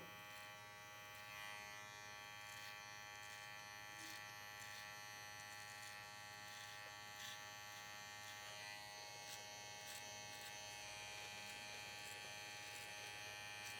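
An electric hair clipper fitted with a guard buzzes steadily and continuously while cutting hair, a quiet, even drone with no talk over it.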